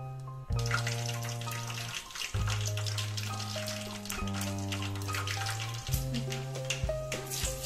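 Mustard seeds and cumin crackle and sizzle in hot oil for poha, a quiet, close, continuous spattering with several sharp bursts and no talking.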